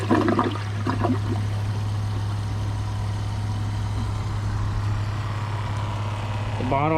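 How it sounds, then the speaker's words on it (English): Champion 4 toilet flushing, a short loud rush of water at the start that settles into a steady gurgling drain, with a rising refill trickle near the end over a constant low hum. "I'll give it another flush just to make sure."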